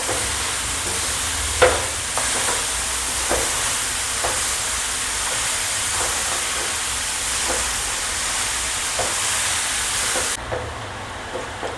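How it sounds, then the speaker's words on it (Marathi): Grated carrot sautéing in ghee for gajar halwa gives a steady, close sizzling hiss, broken by light, irregular stirring taps and scrapes, until the hiss thins abruptly near the end. "आता मी गाजरचा केस टाकते तुपामध्येच परतून घ्यायचं"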